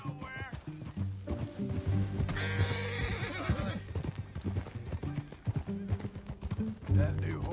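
In Red Dead Redemption II, a horse's hooves clip-clop steadily on the ground while it neighs and whinnies, close and fairly loud, with people talking over the sounds.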